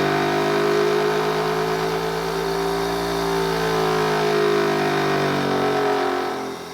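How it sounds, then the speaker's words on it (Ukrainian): A steady motor hum with a sustained mid-range drone and harmonic whine, running continuously at fairly constant speed before tapering off slightly at the end. "Включаю в дану розеточку двигун."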